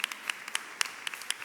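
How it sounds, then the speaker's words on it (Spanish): Sparse, faint claps from a small audience at a journalism week event, scattered individual hand claps in an irregular rhythm rather than full applause. "Vamos a darle un aplauso a Liliana Hendel,"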